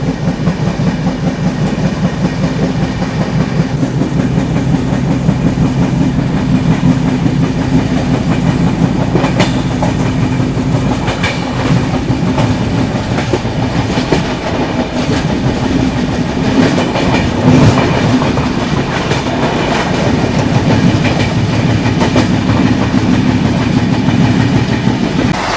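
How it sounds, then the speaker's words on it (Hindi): Express train (New Delhi to Banaras Superfast Express) running at high speed, heard as a loud, steady rumble with continuous rhythmic clickety-clack of wheels over rail joints for the whole stretch, with no talking. "जबरदस्त रफ्तार पकड़ ली है गाड़ी ने"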